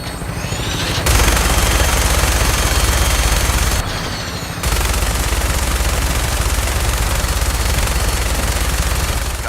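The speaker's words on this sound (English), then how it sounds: "That minigun in front of you is loaded and ready to fire." An aircraft-mounted minigun in the video game Fallout 4 fires long, loud, continuous bursts, stopping briefly twice before the sustained roar resumes, with no talking.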